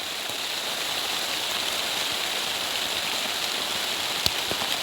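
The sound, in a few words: heavy rain falling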